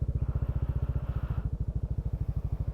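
A motorcycle engine chugs in a fast, even, low pulsing beat, close and fairly quiet, as it rolls along a muddy road soaked by the previous night's rain.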